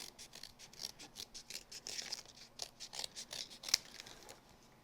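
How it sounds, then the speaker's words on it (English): Scissors snip steadily through card stock, trimming away excess paper, in a quick, even rhythm of small crisp cuts, close and moderately quiet. "use our scissors to trim away the excess"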